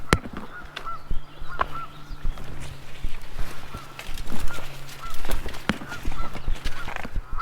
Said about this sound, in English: Of course, we still have the noisy geese